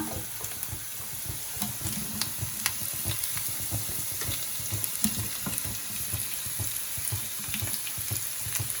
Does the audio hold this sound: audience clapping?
no